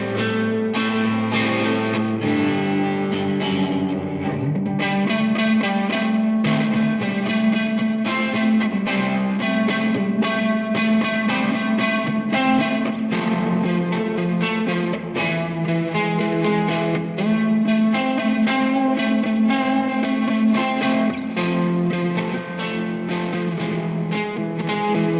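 Electric guitar played through a Two Notes Torpedo Captor X with its twin tracker stereo effect, a full, slightly distorted chord passage ringing steadily and loud for the whole stretch, with no talking.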